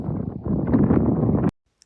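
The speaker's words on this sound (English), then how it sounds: "I don't even know if you can hear me, it's so windy" Strong wind buffeting a microphone outdoors in remote interior Alaska, a loud, close, rough rumble lasting over a second before cutting off abruptly.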